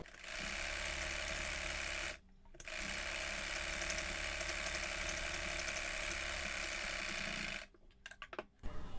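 An electric sewing machine runs a straight line of stitching across the top of a child's frock, a steady whirring buzz that stops briefly, resumes for a long stretch, then halts with a few short bursts at the end.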